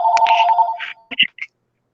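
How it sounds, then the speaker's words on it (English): A phone ringtone plays up close, loud and electronic, a short tonal melody that breaks into a few brief chirps before cutting off, with no talking over it. "My phone's ringing here."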